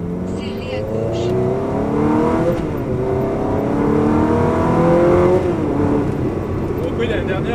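A Ferrari 360 Modena driving on a rough, broken road, its engine note rising and falling steadily as the car moves, heard from inside the cabin beneath someone talking.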